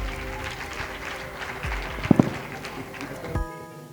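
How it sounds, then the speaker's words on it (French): Audience applause at the end of a school quiz match between two teams, moderate clapping with a few sharper knocks near the middle before the sound cuts off abruptly. "On applaudit les deux équipes, c'est la fin du match."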